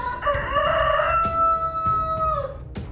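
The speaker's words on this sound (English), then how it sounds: "if you heard that rooster crowing" A rooster in the video game Minecraft crows once, loud and close, a long stretched cock-a-doodle-doo over faint background clucking.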